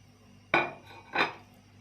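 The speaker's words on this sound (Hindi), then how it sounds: "ये देखें, ये तमाम मिसाले डाल रहा हूँ मैं" Spices for beef tongue haleem being added into a cooking pot, giving two close, bright clinks of a metal utensil against the pot about a second apart, with no talking.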